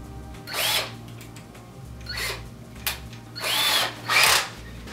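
A power drill fitted with a Phillips head bit driving screws while a floating wall shelf is installed, four short whirring bursts close by, each revving up and stopping, with brief quiet gaps between.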